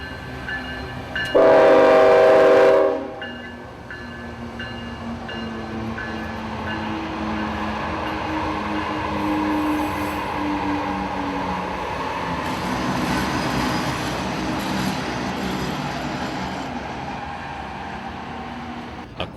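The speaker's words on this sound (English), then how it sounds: "Not far behind 441 was N128, a coal train for Progress Energy's Crystal River plant." A CSX coal train, N128, bound for the Crystal River power plant on the S Line, blasts a loud, long horn early on, then rumbles steadily past at close range for the rest of the stretch.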